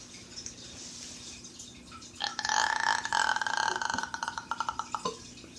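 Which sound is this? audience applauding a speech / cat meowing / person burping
person burping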